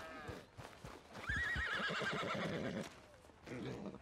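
A horse in the video game Red Dead Redemption 2 whinnies loudly with a long wavering neigh, hooves clopping underneath, followed by a brief snort.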